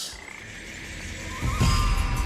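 Frogs croak in the video game PaPo & Yo, a few throaty calls over a soft ambient game backdrop, swelling louder and closer in the last second with no talking.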